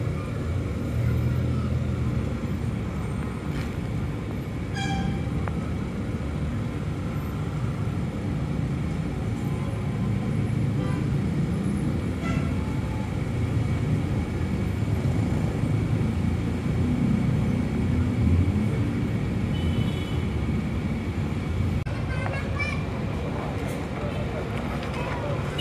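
An Indoren coach bound for Solo departs from Pondok Pinang terminal, its engine droning in a steady, loud rumble that continues throughout beneath a busy outdoor background.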